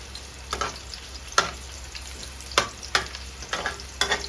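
Cabbage and pork being stir-fried in a pan at home, a steady sizzle broken by about seven scraping, clattering strokes of the spatula, close and clear with no talking.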